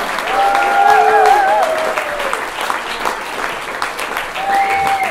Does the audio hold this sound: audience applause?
yes